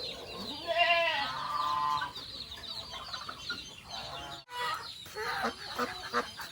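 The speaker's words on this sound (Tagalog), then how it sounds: "yung tatlong gansa natin" Three farm geese, one white and two brown, honk and cluck in a pen, with several overlapping calls close by and a short gap near the middle.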